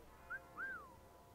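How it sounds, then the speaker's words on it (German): Two short rising whistles come from the player character luring an enemy in Assassin's Creed Syndicate: a quick chirp and then a longer swooping note, quiet and clear over faint game ambience. "Und dann könnten wir die mit den Pfeifen anlocken."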